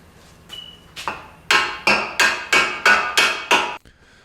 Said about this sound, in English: Hit with the round end of your hammer